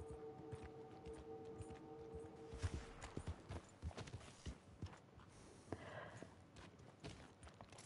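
Horse hooves clip-clop in a steady walking rhythm in a PS5 video game, quiet and fairly close, with a brief whinny-like tone early on and soft rustling between steps.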